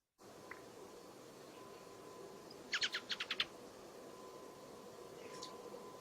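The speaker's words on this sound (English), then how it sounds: "So this is the ring ouzel." A ring ouzel calls once overhead in Barcelona, a quick run of five or six sharp, clipped notes standing out against a faint hiss of background noise.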